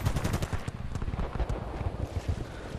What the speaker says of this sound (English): try to shoot this guy at a distance, but the kick on the guns is just so ridiculous